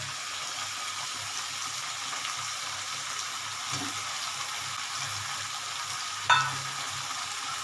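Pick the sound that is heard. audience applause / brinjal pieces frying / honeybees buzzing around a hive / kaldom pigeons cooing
brinjal pieces frying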